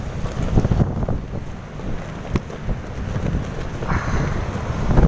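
Strong wind buffets the microphone on a beach during shore fishing, a steady roaring rush with gusty swells and no voices.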